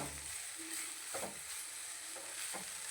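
Soft, steady sizzling of onions and curry leaves frying in a pan for parotta salna, with a few scraping stirs breaking through the quiet crackle.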